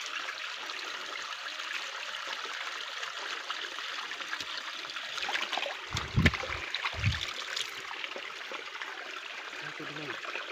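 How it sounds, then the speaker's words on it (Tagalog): Water flows steadily through a hose while it is being collected for gold prospecting, giving a continuous rushing hiss with a few louder splashes and knocks partway through. "Ito guys yung pagkukuha namin ng tubig."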